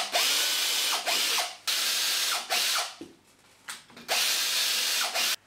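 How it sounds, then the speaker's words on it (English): A power drill whirs in several short bursts while drilling pilot holes for hinges, each stopping briefly before starting again, close and loud with no talking. "I'm now just going to pilot hole all the holes using an hinge sighting drill"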